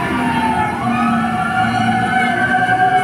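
Fire truck sirens blare during a fire in Manila: loud, continuous wailing tones from several trucks overlap and hold steady throughout, with no talk.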